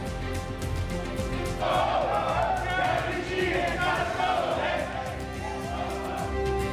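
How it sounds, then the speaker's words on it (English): Protesters at Albany City Hall shout down the mayor as a rough, loud crowd roar that swells in the middle, heard under a steady musical tone. "The crowd of protesters trying to shout down the mayor of Albany."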